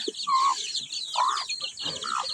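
Backyard chicks peck at sweet potato pieces, chirping and clucking in short bursts, clear and close, with no talk.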